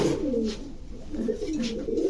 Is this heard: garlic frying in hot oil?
no